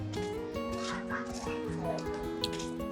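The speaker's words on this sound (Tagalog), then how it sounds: "Baka makagat po tayo ng aso." A dog yips and whimpers in short bursts nearby, mixed with voices and a steady tonal background.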